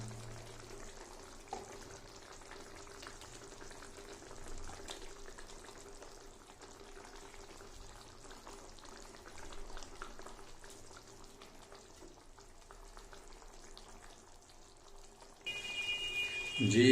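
Potato pieces cook in a yogurt-based curry in a pan, a steady low simmer and sizzle running throughout, with a louder clatter near the end.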